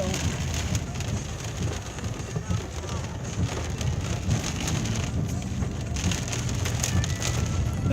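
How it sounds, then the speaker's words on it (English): Heavy rain pours steadily during a big rainstorm, a dense, continuous hiss of drops drumming on surfaces close by, with no breaks across the whole stretch. "Biggest rainstorm in 11 years."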